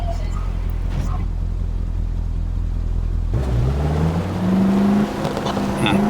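A car in a zombie survival game engine drones steadily, then shifts to a rising, revving whine as it accelerates, loud and continuous throughout.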